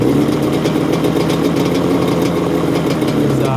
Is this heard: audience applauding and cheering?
no